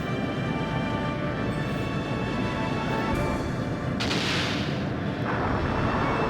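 Steady heavy rumbling sub-cannon fire and blasts from the video game Skies of Arcadia: Legends roll on continuously, loud and dense, with a brighter whooshing burst partway through.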